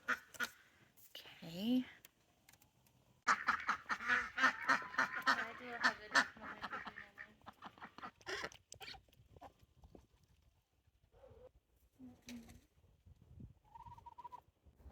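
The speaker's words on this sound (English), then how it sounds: "I just filmed a shot of the ducks" Ducks quack in a busy, overlapping cluster, close by, with a few scattered calls after; a person briefly speaks near the start.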